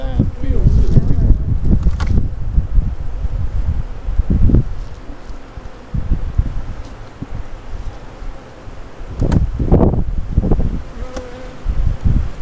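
Honey bees buzz around a productive backyard beehive that has held up to six medium supers, a steady droning hum under outdoor rustle with a few louder bumps and thuds nearby.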